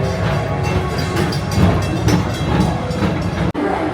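A Disney People Mover ride train at Magic Kingdom, Walt Disney World, rolls steadily along its track with a continuous close rumble and faint clicking, and one brief dropout near the end.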